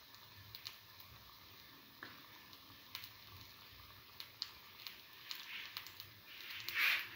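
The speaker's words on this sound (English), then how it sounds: "Let it fry until golden brown." Egg, tomato and chickpea flour fritters frying in a pan give a faint, quiet sizzle with scattered small pops and ticks, ending in a slightly louder burst.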